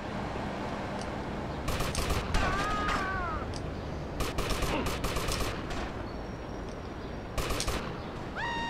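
Video-game gunfire in GTA Liberty City Stories comes in several loud rapid bursts, separated by pauses filled with ambient game noise.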